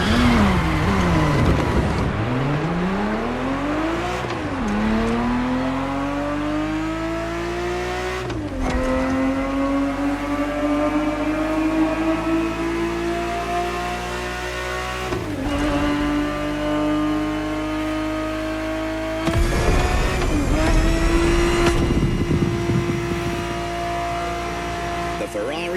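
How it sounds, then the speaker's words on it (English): A Ferrari 365 GTB4 racing engine in a video game revs up repeatedly through the gears, each climb in pitch broken by a shift, loud and close, with someone narrating over it. "The Ferrari 365 GTB4 is the perfect vehicle for you to experience Ferrari racing as it felt back in the 70s"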